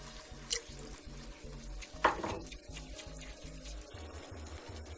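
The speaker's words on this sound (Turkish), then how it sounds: "sıcak suyumu ekliyorum." Hot water poured into a pot of okra and meat stew, a soft continuous splashing trickle close by, with a low rhythmic hum beneath and a couple of brief clinks.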